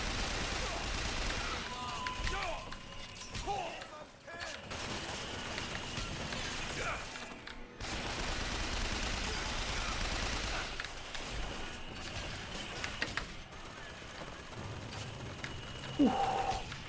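A machine gun turret in Bioshock Infinite, played in VR, fires long rattling bursts with mechanical clatter at moderate loudness, broken by short pauses, while someone talks over it.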